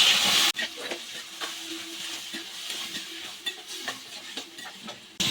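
Cleaned prawns fry in hot oil in a pan, a soft continuous sizzle broken by scraping stir strokes and light clinks of the spoon, close and moderately quiet throughout.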